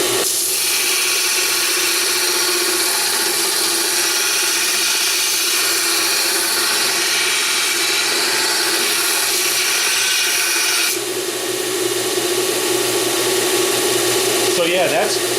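A BUCKTOOL dual speed belt sander grinds mild steel, producing a loud, continuous abrasive roar with a slight shift in tone partway through as the pressure changes.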